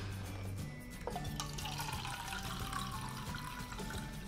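Room-temperature water is poured into homemade bread dough ingredients along with condensed milk and oil. It makes a soft, continuous trickling splash that runs for several seconds, faint and close, with no speech.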